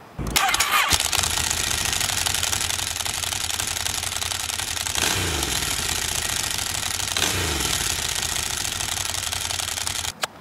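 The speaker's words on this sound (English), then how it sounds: "you got to hear the sound of the dry clutch" A Ducati Monster 1100 engine idles loudly and steadily, with a dense, dry clutch rattle running throughout and a couple of brief revs near the middle.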